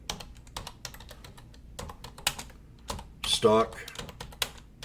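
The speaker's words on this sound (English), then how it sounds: "Now, on patterns, all you got to do is type in" Search terms being typed on a computer keyboard, a quick near run of light clicking keystrokes with a few pauses, under someone talking and a brief tonal computer chime.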